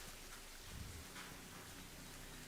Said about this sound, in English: Got the sound of the rain falling down.